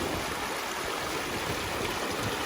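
A rocky stream flows at a water crossing on a backcountry bushwhack, making a steady, close rushing and gurgling wash with no voices.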